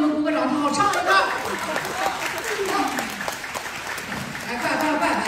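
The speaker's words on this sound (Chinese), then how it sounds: "把相机都放下，开始鼓掌啊" A theatre crowd at a Deyunshe crosstalk evening show in Tianjin claps loudly and steadily, with bursts of chatter and a few voices mixed into the ongoing applause.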